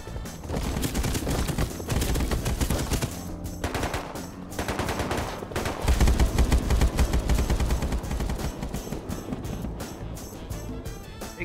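Continuous rapid gunfire in a video game, dense automatic bursts with brief gaps, loud and sustained throughout.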